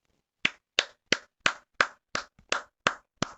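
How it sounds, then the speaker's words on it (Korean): Nine sharp, evenly spaced hand claps ring out alone in a quiet room, each crisp and close, like a single person clapping slowly rather than a crowd. "박수 한번 줘."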